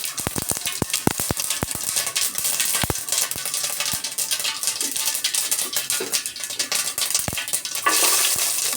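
Mustard seeds crackle and pop sharply in hot oil for a chicken thoran, loud irregular spits over a steady sizzle, with no voices.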